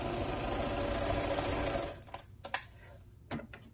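A sewing machine runs steadily for about two seconds, stitching forward and backward across fabric a quarter inch from the edge, then stops, leaving a few soft handling clicks and rustles.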